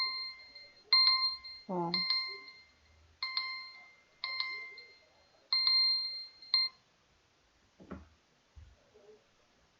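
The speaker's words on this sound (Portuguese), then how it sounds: "para despertar a atenção de qualquer um nessa campainha" A doorbell chime rings in repeated bright electronic tones, several close, clear strikes in a row, with someone briefly speaking in between and a couple of soft thumps near the end.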